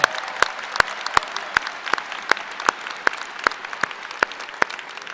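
Sharp, evenly spaced claps ring out at a high school graduation ceremony, about a dozen crisp hand claps in a steady rhythm over a faint room background.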